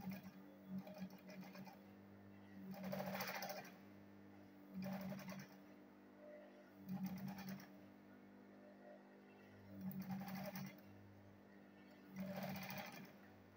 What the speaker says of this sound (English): now sew it this way